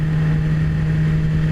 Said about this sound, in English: Got a nice little low rumble in the low revs.